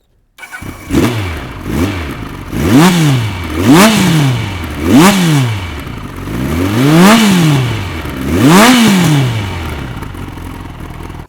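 A Kawasaki Z1000/Z1R motorcycle with a classic Kerker 4-into-1 exhaust starts up and is blipped repeatedly, each loud, close rev rising and falling in a steady series over a rumbling idle, with no talking.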